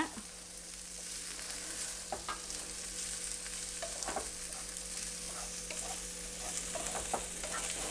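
Onions sautéing in coconut oil for an egg paniyaram gravy give a steady, soft sizzle, with occasional scrapes and clinks of a spoon stirring the pan throughout.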